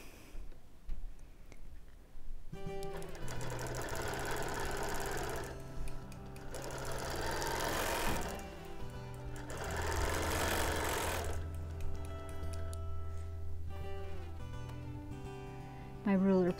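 A longarm quilting machine stitches binding onto a quilt, its steady motor hum and rapid needle chatter running loud and continuous, pausing briefly near the start and again toward the end.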